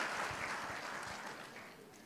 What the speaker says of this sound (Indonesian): Boleh kasih tepuk tangan buat tim praise and worship kita